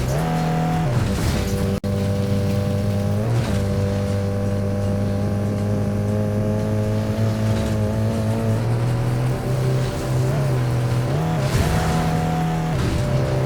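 An off-road vehicle's engine drones steadily in the racing video game Fuel, a loud continuous hum that shifts pitch with gear changes and revs, with no talk over it.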